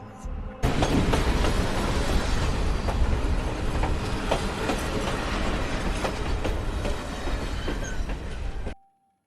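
A train rumbles past on the rails, loud and close, with rhythmic clattering of wheels over joints before the sound cuts off.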